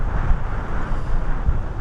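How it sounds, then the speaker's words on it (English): Strong wind buffets the microphone on a beach of a Disney cruise line island, a loud, steady, broadband roar with low gusty thumps throughout and no other clear sounds. "but man, is it windy today"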